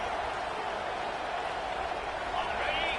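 A packed stadium crowd at a Texas A&M college football game roars steadily and densely against the offense, a constant loud wash of cheering with no breaks.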